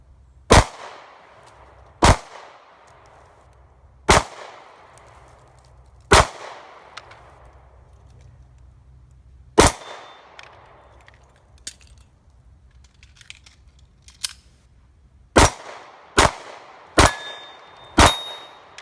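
Shots from an M&P Shield 9mm pistol ring out at soda cans, about ten sharp cracks spaced irregularly, several coming in a quicker run near the end, loud and close against a quiet outdoor background.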